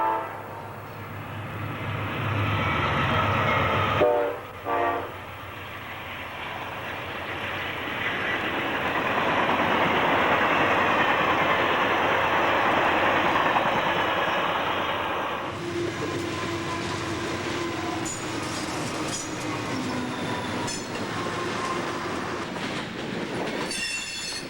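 HO scale model trains run around a large railroad layout at the Museum of Science and Industry in Chicago. A steady, close rumble of small wheels on track carries occasional squeals and clicks, with a noisy hall around it.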